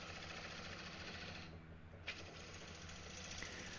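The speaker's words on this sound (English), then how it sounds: "Now I'm going to take the shoulder down and start shaping what will be the foot of this bowl." A wood lathe spins with a constant low mechanical drone as a bowl foot is shaped, a brief dip midway and a faint tool scrape, quiet and steady with no speech.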